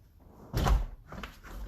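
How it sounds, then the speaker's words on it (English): A house door in a shifted frame that no longer closes properly, pushed shut with a single dull thud, fairly close, followed by faint rustling. "Close the door."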